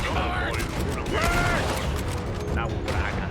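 A Red Dead Redemption 2 shootout in which gunshots and clattering weapon mechanisms mix into a dense, loud battle din, with voices shouting over the fight.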